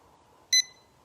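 A stretching timer gives a single short electronic beep, bright and clear against near silence, after ten seconds of held tension.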